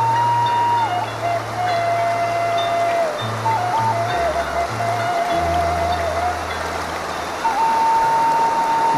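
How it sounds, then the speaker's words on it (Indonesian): A large river in a Sundanese village runs swollen and fast after days of rain, giving a steady, loud broadband rush of water throughout, with faint tonal background sounds and no talk over it. "Mungkin beberapa hari ini karena habis hujan jadi airnya agak besar."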